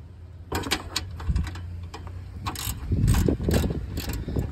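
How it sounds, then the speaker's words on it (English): A ratchet with a 10 mm socket clicks in rapid bursts while unscrewing a bolt on a Toyota RAV4 grille, close and fairly loud, with short pauses between runs of metallic ratcheting. "Unscrew it."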